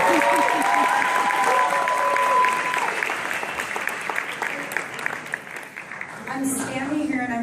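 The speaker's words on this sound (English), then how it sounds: "Round of applause for" An audience claps for a speaker's mother at a talk, the clapping strongest at the start and then thinning out, with a voice and a few brief tones rising over it toward the end.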